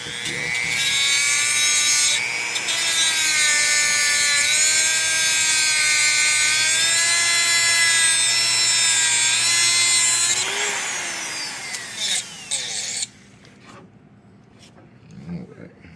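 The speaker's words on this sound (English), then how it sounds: "My rotary tool hooked up here. I'm just gonna go ahead and cut that off right now." A rotary tool cuts off a plastic part on a wheel-swapped DeLorean, its high whine wavering in pitch as it bites for about ten seconds, then winding down into scattered clicks and handling noise.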